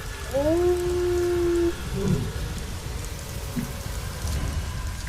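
Steady rain pours down in a constant hiss, with a brief rising whine near the start.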